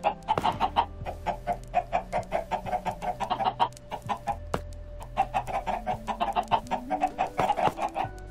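Minecraft chickens cluck in a rapid, continuous stream of short, bright calls, close and loud, over steady low electronic tones.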